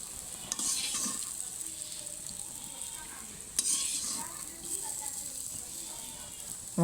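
Kumro bori sizzle steadily as they fry in a pan, a bright continuous crackle with occasional scraping stirs and clinks of the utensil, with someone speaking faintly in the background.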